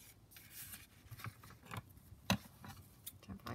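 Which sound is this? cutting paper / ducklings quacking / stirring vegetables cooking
cutting paper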